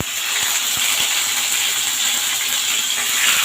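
Marinated chicken sizzles loudly in a hot pan while frying for black pepper chicken, a steady bright hiss that fills the whole moment, close and without speech.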